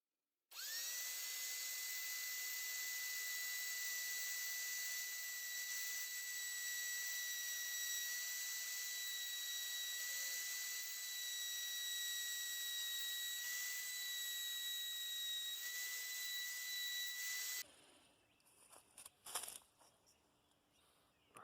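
Fiberglass is cut inside a Harbor Freight vapor blast cabinet with a high, steady whine that holds for about seventeen seconds before stopping abruptly. Faint clatter follows the cut.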